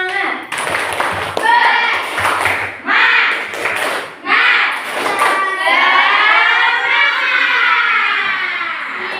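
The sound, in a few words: class doing rhythmic spirit clapping as an ice breaker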